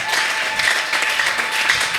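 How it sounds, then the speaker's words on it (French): Church congregation applauding during a worship service, dense steady clapping from many hands throughout, fairly loud and close. "Acclame fortement."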